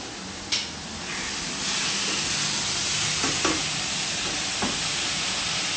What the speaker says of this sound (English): The choice for the flank steak is it's so thin, it does not need long, it's on a really hot pan